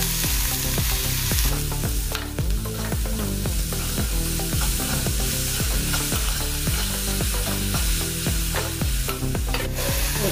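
Finely chopped spinach frying in a pan for a cauliflower and spinach snack, a loud, steady sizzle with constant rhythmic stirring strokes throughout, close up and with no talking.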